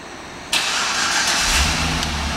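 A 2011 Cadillac CTS-V Coupe engine, remote started, turns over and catches abruptly, then settles into a steady idle with a faint rise in revs, nearby and fairly loud.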